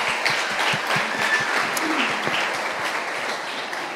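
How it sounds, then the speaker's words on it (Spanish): Congregation applause at a Father's Day church gathering, a room full of steady clapping with a few distinct near claps standing out, holding level throughout. "Un aplauso al Señor por ello."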